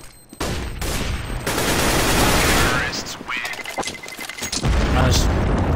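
A flashbang grenade going off in Aion, a loud game blast followed by a dense stretch of rapid gunfire and impact bursts, with voices talking through it.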